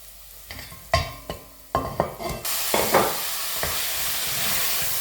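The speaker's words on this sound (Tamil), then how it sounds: "வெங்காயம் வந்து நல்லா வதங்கிட்டது பாருங்க அப்படி வதங்கி இருக்கண்டு இப்போ வந்து ஆட்டை வச்சு கொடுக்குறேன்" Mutton being stir-fried with sautéed onions: a few sharp stirring clatters and scrapes over a quiet pan, then a sudden loud burst of sizzling that stays steady to the end.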